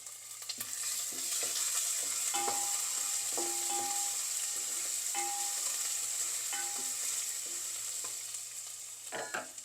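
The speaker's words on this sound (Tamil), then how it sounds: "எல்லாம் கொஞ்சம் பொரியட்டும்" Spices sizzle in hot oil in a pan for lemon rice, a steady bright hiss throughout with scattered clicks of stirring and a few utensil taps, close and without talking.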